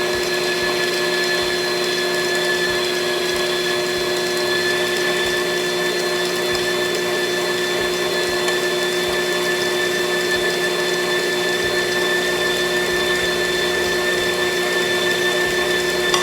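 Electric mixer beating room-temperature butter for a sweet potato pie, a steady loud whirring drone with a constant motor hum that runs unbroken and alone.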